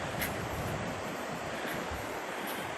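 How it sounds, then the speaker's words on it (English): Ocean swell rolls in along the Baja coast near Punta San Jacinto, a steady wash of surf mixed with wind buffeting the microphone, continuous and fairly faint with no voices. "So there's a swell."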